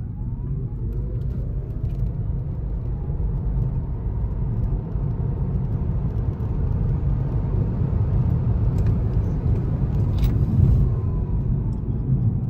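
A Peugeot e-208 GT electric car accelerating hard on an open road for a timed run gives a steady, loud, close road rumble and motor whir that builds slightly and never drops away.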